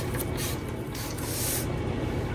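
Alcohol spritzed from a spray bottle onto poured resin to clear surface bubbles, heard as a few quick, close bursts of hiss in succession.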